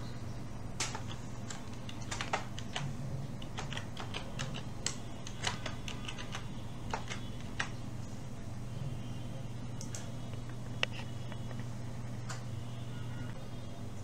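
A password is typed on a computer keyboard as sparse, irregular key clicks over a steady low electrical hum, faint and close, with no voices.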